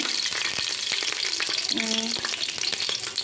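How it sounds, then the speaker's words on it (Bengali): Whole spices such as cloves and bay leaves fry in hot oil with onions as they are stirred, a steady close sizzle with scraping clicks of the spoon and no voices. "পেঁয়াজ দিয়ে দিচ্ছি। পেঁয়াজগুলোকে একটু নেড়ে ছেড়ে দেবো।"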